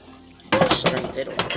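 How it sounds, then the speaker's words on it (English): Cooked pasta for a vegan chicken and broccoli mac and cheese is strained over a bowl to save its water, giving a sudden burst of clattering metal and splashing that runs loud and close after a quiet start. "I'm going to strain the last of the pasta over a bowl because I want to keep the pasta water just in case I need it"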